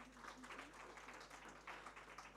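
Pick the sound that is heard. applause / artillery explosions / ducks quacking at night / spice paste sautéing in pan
applause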